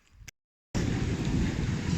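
Wind roars across the microphone during an outdoor bike ride, a steady, loud rushing that cuts out briefly after a short start and then returns strongly and continuously.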